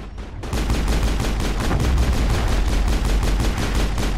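Pistol in Mass Effect fired at machine-gun speed: a dense, loud, continuous stream of rapid, evenly spaced shots lasting several seconds after a brief quiet start.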